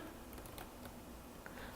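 Computer keyboard keys pressed in a few quick, light taps, faint and close, during accounting software input.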